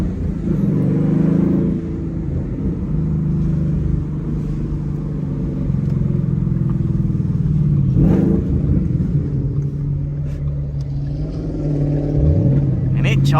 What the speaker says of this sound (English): Charger sounds so good though.